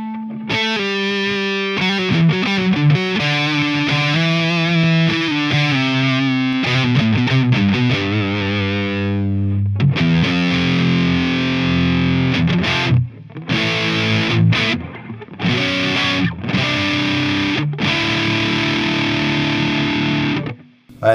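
Distorted electric guitar through the neck pickup of a 1989 Charvel Model 4, playing loud, sustained chords and riffs alone for about twenty seconds, with a few brief pauses between phrases.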